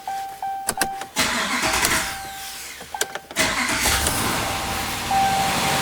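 A rebuilt 6.4L HEMI engine is cranked with several short starter bursts before catching and settling into a loud, steady idle close by.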